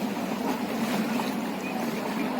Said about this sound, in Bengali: এই যে বন্ধুরা দেখুন, একটা জাহাজ আসছে